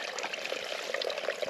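Water pours and trickles steadily into a container being filled at a stream in the Campsie Fells, a close, continuous splashing with no talk.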